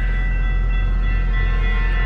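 A train rumbles past close by, a steady loud low roar with a constant hum and no talking over it.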